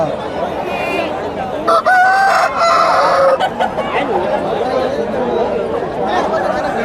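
Country chickens and roosters at a market crow and cluck loudly, one long drawn-out crow standing out in the middle over busy crowd chatter, while people talk nearby throughout.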